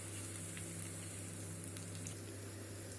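Potato cheese balls fry in hot oil with a soft, continuous sizzle and faint bubbling, low in level and steady throughout, with no voices.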